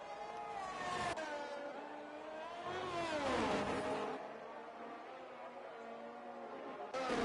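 F1 race cars in the F1 23 video game at the Austrian GP roar with engine notes that rise and fall as they accelerate and pass, and a commentator's voice runs underneath.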